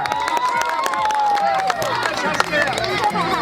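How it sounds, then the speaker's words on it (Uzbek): Crowd clapping and cheering for a stone-lifting strongman at an outdoor village festival, a busy burst of claps mixed with shouts and children's voices. "Qobil aka Rashidovga bitta qarsak 16 ta."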